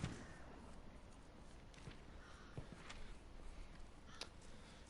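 Crows cawing in the video game Hunt: Showdown, a few scattered distant calls over a steady outdoor ambience with faint footsteps.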